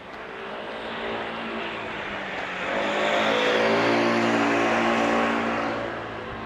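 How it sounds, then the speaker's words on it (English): A motor scooter passes by on a street in Japan, its engine whine swelling from a steady hum to a louder peak near the middle before easing off again, with no talk over it. "Motor scooter."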